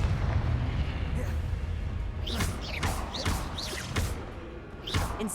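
Confringo blasting spell from the Hogwarts Legacy video game, fired repeatedly: a rapid string of loud explosive cracks and booms, roughly one every half second, close and punchy over a rumbling battle background.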